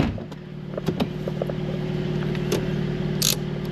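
A Porsche Cayman GT4 drives past, its engine a steady mid-level drone with a few sharp clicks and knocks along the way, no voices.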